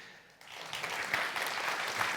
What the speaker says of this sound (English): I think that actually deserves like a round of applause.